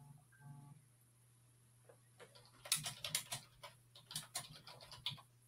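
Someone in an online group meeting types on a computer keyboard, a quick, irregular run of close, crisp clicks that starts after a quiet stretch, over a steady low hum.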